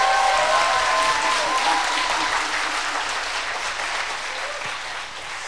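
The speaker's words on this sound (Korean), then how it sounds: "You're even cheering while you're clapping." Dense, sustained applause from a large church congregation fills the space, with some cheering mixed in near the start, gradually fading slightly.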